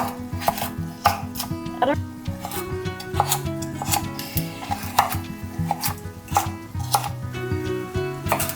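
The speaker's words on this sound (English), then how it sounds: "And now I'm cutting up my 2 onions." A knife chops two onions on a board in a kitchen while ghee and garlic melt in a pan. Rapid, close, uneven chopping taps sound over a steady background hum with a few brief tonal notes.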